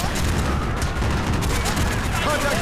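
AK rifle fire in the video game Call of Duty: Black Ops during a trench battle, dense rapid gunshots and distant booms crowding together in a loud, chaotic barrage, with a voice talking over part of it.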